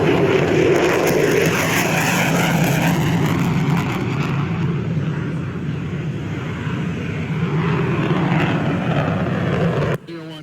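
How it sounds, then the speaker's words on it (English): Steady, loud roar of an F-16 fighter jet's engine during takeoff, heard from inside the cockpit as a continuous broadband rush that holds for about ten seconds before suddenly dropping off. "I want to show you what it maybe looks and feels like to take off in an F-16 jet."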